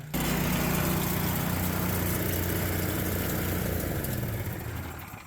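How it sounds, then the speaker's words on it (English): An air compressor runs for an irrigation line blowout, a steady loud engine-like drone that holds constant and then winds down near the end, with no voices. "shut off the air compressor, any of that air that is still trapped in the lines has somewhere to go"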